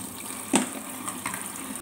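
Water running steadily from a tap while making a toy caterpillar, a continuous close hiss and trickle with a brief splash near the start, no voices.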